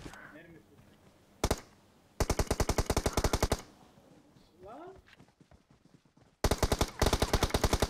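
Automatic gunfire in the mobile battle royale game PUBG Mobile, several rapid bursts of loud rattling shots separated by pauses, with voices talking in the gaps between bursts.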